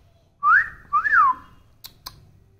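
A pet parrot whistles two clear, rising-then-falling tones in quick succession, loud and close, followed by two short sharp clicks against quiet background hum.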